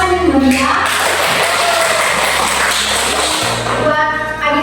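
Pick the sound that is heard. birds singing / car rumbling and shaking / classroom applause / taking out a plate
classroom applause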